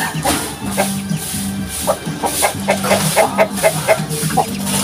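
Jersey Giant chickens cluck close by in a backyard farm, with a run of short, repeated clucks and soft calls and no talk.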